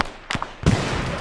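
A frag grenade detonates in a video game: a sharp pop followed by a loud, close, noisy blast that lingers with a rumbling tail, no talking over it.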